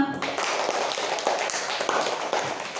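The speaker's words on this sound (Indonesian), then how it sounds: "Ya, tepuk tangan semua." A primary school class applauding together, a dense burst of many hands clapping at once, sustained and fairly loud throughout in an indoor classroom.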